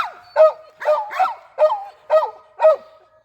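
A laika hunting dog barks repeatedly, about six sharp yelping barks in an uneven rhythm, close by and clear with nothing else behind them.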